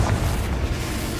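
A Confringo blasting spell goes off in Hogwarts Legacy, a brief heavy boom with deep rumble filling the whole moment, loud and close.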